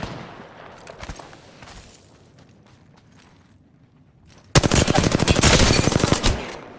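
Rapid automatic gunfire in Apex Legends breaks out after a few quieter clicks and scattered shots, a loud, fast rattling burst that continues for about two seconds near the end, with no talking.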